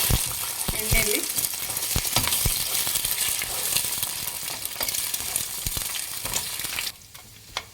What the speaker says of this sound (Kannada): ನೋಡಿ, ಇದನ್ನ ಚೆನ್ನಾಗಿ ಫ್ರೈ ಮಾಡಬೇಕು ಎಣ್ಣೆಯಲ್ಲಿ